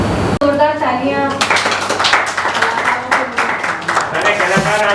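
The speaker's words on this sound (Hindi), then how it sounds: "जोरदार तालियां।" A theatre audience at a Hindi stage play breaks into loud, dense applause that swells after a brief spoken moment and carries on steadily to the end.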